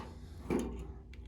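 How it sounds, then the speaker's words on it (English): Battery compartment door on a SecureIt Agile ultralight gun safe flipping down open, making one short, close, woody clunk over a quiet room hum. "Just a little flip down door."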